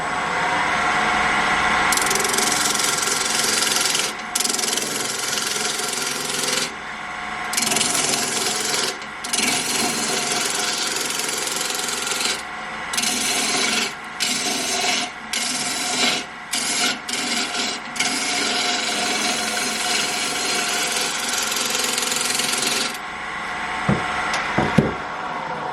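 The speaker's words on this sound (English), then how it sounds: "I'll just take this back a bit more, but I'll use the gouge this time." A wood lathe gouge cuts a pear shape from wormy wood, making a steady, loud scraping rasp that runs almost continuously with short breaks between passes, plus a couple of sharp knocks near the end.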